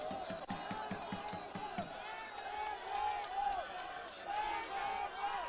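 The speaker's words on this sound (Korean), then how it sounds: "힘찬 박수 부탁드리겠습니다" A crowd at an outdoor political protest rally claps in rhythmic unison, then breaks into sustained cheering and shouting, fairly distant and loud, with a voice over a PA system.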